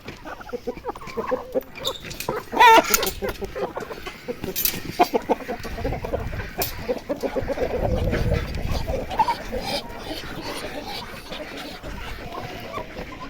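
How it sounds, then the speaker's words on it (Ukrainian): Chickens let out of their coop cluck and scuffle nearby amid rustling and thumps, a busy burst of hens moving about with no talking. "я випускаю курей, хай ходять"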